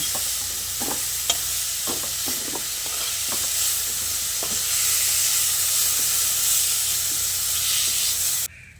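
Potatoes and yardlong beans sizzle steadily in mustard oil in a wok, with scattered stirring clicks and scrapes over a continuous frying hiss that cuts off abruptly at the end.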